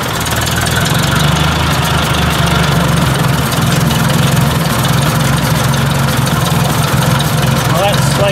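Ford 800 tractor engine running steadily at close range, a loud low rumbling idle while the hitch lift arm is raised, with a voice heard briefly over it.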